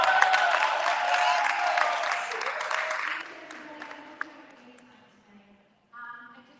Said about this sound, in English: But clap up for Jules.